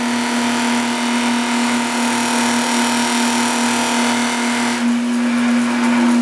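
A Princess Auto Power Fist 8-inch variable speed polisher buffer runs at about 2000 RPM, a loud steady motor whine with a constant pitched hum, close and unbroken throughout.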